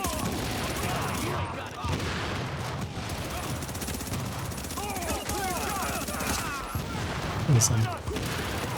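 Gunfire in a shooter video game: steady bursts of rapid shots crackle throughout, with a voice talking over the shooting.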